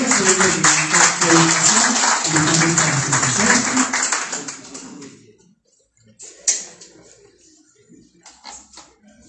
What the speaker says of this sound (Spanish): Fuerte el aplauso para Daniel